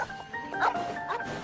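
A dog barks in the video game Genshin Impact: two short barks in mid-range over steady in-game music tones.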